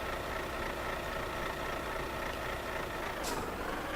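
Idling diesel engine of a purple truck hauling a trailer in the Euro Truck Simulator 2 game, a steady low rumble holding evenly throughout with a brief hiss near the end.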